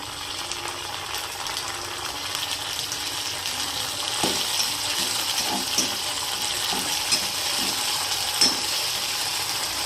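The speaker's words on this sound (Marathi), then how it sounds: "आता मी ॲड करते लगेच शिमला मिरची। चांगलं परतून घ्यायचंय।" Bell pepper (capsicum) sautéing in a pan, giving a steady broad sizzle with scattered small crackles and a few soft knocks as it is stirred, fairly close and without any talk.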